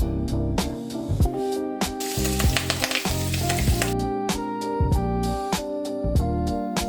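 Mustard seeds and curry leaves sizzle in hot oil for a Kerala fish molee, a bright crackling hiss with a brief louder flare, over steady tonal background music with regular beats.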